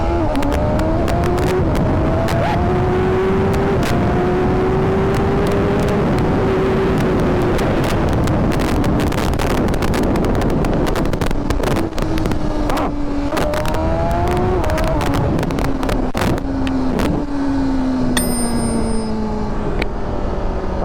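BMW S1000RR sport motorcycle engine revving loudly and continuously up close, pitch climbing and falling through repeated throttle blips and shifts, with faint wind buffeting throughout.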